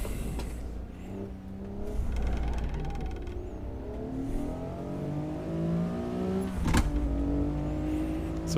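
Mid-engined Honda-built Type R of about 300 horsepower, driven with a manual stick shift in the Assetto Corsa racing game, accelerates hard, its engine note climbing steadily through the revs with a brief gear-change dip, no talking.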